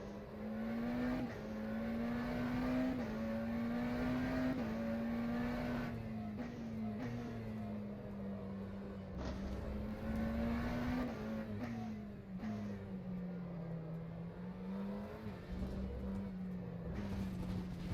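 A McLaren GTR race car engine drones steadily in rFactor 2 at Virginia International Raceway, pitch rising and falling through gear changes and throttle lifts over eighteen seconds, loud and continuous with no talk.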